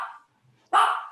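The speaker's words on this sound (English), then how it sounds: "that's my dog reacting to the doorbell." A dog barks twice at the doorbell, a short bark followed by a louder, longer close bark, with nothing else around it.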